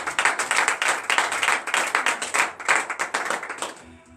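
A church congregation at a Friday morning prayer in Benin claps to acclaim the Lord, with steady, rhythmic group handclapping, dense and close, continuing for several seconds before stopping abruptly.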